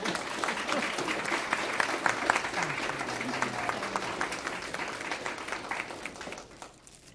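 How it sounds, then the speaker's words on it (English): Applause from an audience at a school board of education meeting, a steady wash of many hands clapping for several seconds before tapering off, with a voice faintly audible underneath. "You guys can clap for them, they worked really hard."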